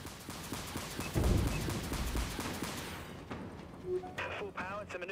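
Spaceship primary weapons fire in Dreadnought, a heavy booming barrage rumbling for about three seconds before fading, with in-game voices speaking afterward.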